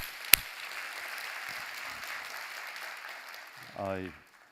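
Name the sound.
church congregation applause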